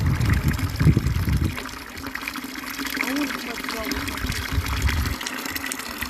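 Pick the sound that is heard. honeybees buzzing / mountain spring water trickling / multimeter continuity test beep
mountain spring water trickling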